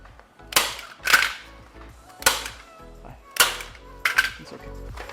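Staple gun fastening material onto a wooden chick brooder: five sharp, loud snapping shots spaced about a second apart, close by, with brief rustling between them.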